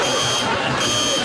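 An electric buzzer gives a continuous harsh electronic tone, steady and fairly loud for about a second, with a faint murmur of voices underneath.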